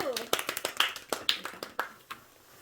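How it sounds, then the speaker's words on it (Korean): A small audience applauding, a sparse burst of roughly a dozen individual claps in an irregular rhythm that thins out after two seconds, fairly quiet and close. "박수!"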